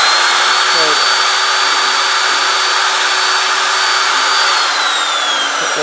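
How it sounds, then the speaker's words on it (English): Power drill running steadily with a larger bit during a repair job, a continuous loud whine with a high tonal pitch that shifts slightly near the end, alone without talk. "I had to change drill bits"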